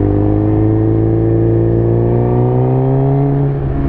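A Suzuki GSX-R motorcycle engine revs loudly through an M4 exhaust, its close, throaty tone rising steadily in pitch with no one talking over it.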